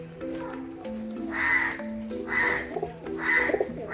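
Pigeons in a cage cooing and calling in close, repeated throaty bursts with a rhythmic rise and fall, with a few soft chirps mixed in.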